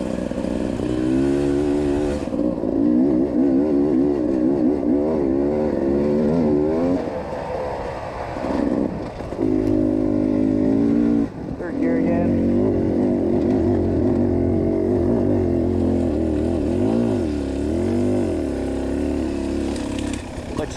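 A dirt bike, a CRF450X or a 300 two-stroke, riding Idaho single track, its engine droning loud and close with constant revving, throttle blips and gear changes, and a brief drop in power partway through.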